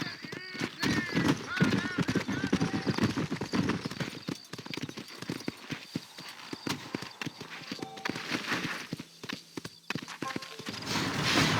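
A horse galloping in the video game Red Dead Redemption, with rapid rhythmic hoofbeats thudding close by and a whinny amid the clatter, while people talk over it.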